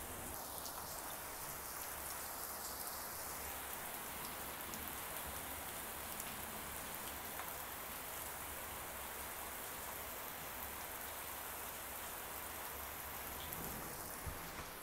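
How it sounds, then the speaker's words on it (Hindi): Heavy rain pours down outside, a dense, steady hiss of drops that runs unbroken from start to finish with no voices over it. "बाहर हो रही है बहुत तगड़ी बारिश, और बहुत तगड़ी वाली बारिश हो रही है"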